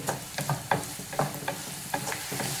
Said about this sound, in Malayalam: ഇത് നമ്മൾ ഹൈ ഫ്ലെയിമിൽ വെച്ചിട്ട് വഴറ്റി കൊടുക്കേണ്ടത്.